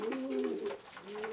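Pigeons coo softly and close by while feeding their growing chicks, a brief low rolling call repeated twice.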